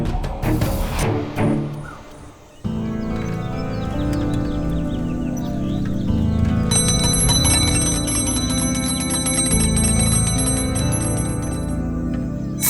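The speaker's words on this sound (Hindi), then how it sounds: "क्यों घंटी बजा रहा है?" A bicycle bell rings sharply after a short noisy opening, then a steady, bright ringing continues through most of the clip, loud and close, with no talking.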